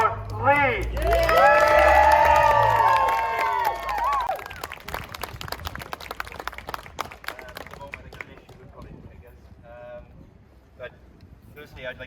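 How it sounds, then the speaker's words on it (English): A crowd cheers for a speaker named Lee at a Cardiff University gathering, with loud whoops and high whistles at first, then a patter of clapping that gradually thins out. "So a big round of applause for Lee."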